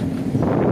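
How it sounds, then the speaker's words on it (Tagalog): Strong outdoor wind buffeting the microphone, a rough continuous low rumble that swells slightly toward the end, with no voices. "Ito kasi lakas ng hangin eh"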